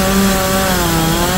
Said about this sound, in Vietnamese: Bây giờ cưa cái nhánh to đó nha.